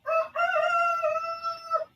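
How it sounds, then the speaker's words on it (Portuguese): A rooster crows once close by, a loud sustained cock-a-doodle-doo lasting about two seconds, with no one talking over it. "Olha o galo cantando aí para acordar vocês."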